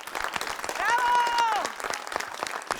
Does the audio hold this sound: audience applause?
yes